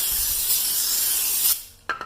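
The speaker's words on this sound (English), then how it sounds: "So you're gonna get some brake cleaner, you're gonna spray it," Brake cleaner sprays onto a car brake rotor in one continuous, close, loud hiss of about a second and a half, then cuts off into quiet, followed by a brief clatter.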